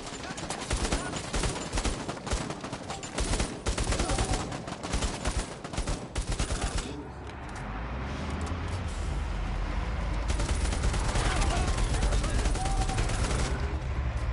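Rapid bursts of gunfire from a VR shooter game, dense and loud for the first several seconds, then giving way to a steady low rumble with scattered shots.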